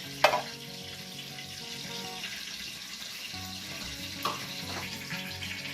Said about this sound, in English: Let it simmer for a little while.